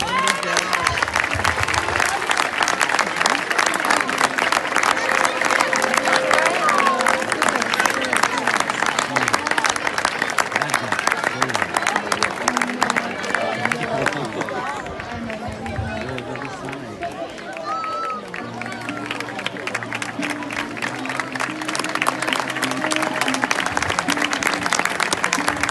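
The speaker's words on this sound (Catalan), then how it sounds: "un aplaudiment per ells" An audience at a tribute ceremony applauds continuously in dense, steady clapping that dips slightly midway before picking back up, while background chatter and a voice mix in underneath.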